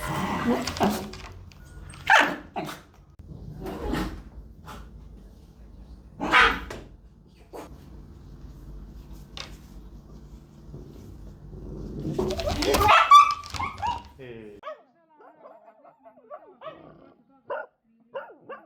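A small dog yaps in several sharp, high barks spaced apart, with quieter stretches and a brief flurry of sound near the end.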